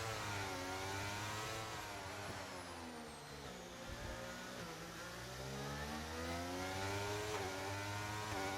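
A Formula 1 car engine in a racing video game at Azerbaijan, screaming at high revs through a hot lap with rising and falling pitch sweeps as it shifts and brakes, continuous and steady with no talk.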